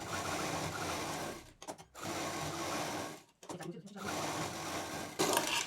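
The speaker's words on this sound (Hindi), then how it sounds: "और डबल मशीन चलाते हुए सिल दीजिए।" A sewing machine runs in steady whirring bursts while a patchwork bag is stitched with a double line of seams, pausing briefly twice before resuming, close and continuous.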